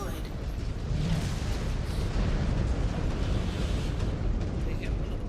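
A mine detonating in the MechWarrior 5: Clans mech combat game, a dense continuous explosive roar and rumble filling the scene, loud and sustained with heavy low-end.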